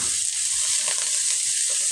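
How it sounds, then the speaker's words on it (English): Sloppy joe meat sizzles loudly and steadily in a hot frying pan, a continuous bright hiss with no voices over it. "yeah, you heard it, sizzle,"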